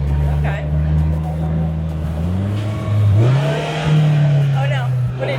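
Polaris Slingshot autocycle pulling away under hard acceleration, a loud steady engine drone that rises in pitch as the revs climb through the gears, with people talking over it close by.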